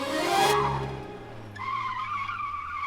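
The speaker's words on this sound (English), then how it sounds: "The car fishtailed on the wet cobbles of Nathan Road." A car fishtails on wet cobblestones on a Hong Kong city street, a loud broad tire skid with engine roar fading into a sustained squealing whine, no talk.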